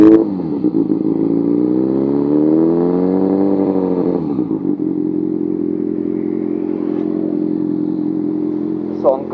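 Kawasaki ZX6R motorcycle idling in neutral, then its exhaust note revving up in a long rising and falling sweep around two seconds, settling back to a steady close, loud idle with a brief blip at the end.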